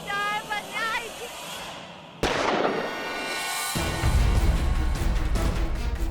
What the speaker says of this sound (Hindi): गोली चलने की आवाज